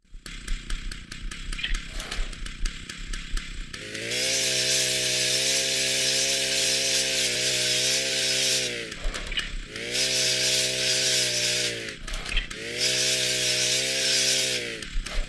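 A loud video-game chainsaw from Cube 2: Sauerbraten roars in long bursts, layered with harsh metallic scraping of sword sounds grinding, with brief gaps between bursts.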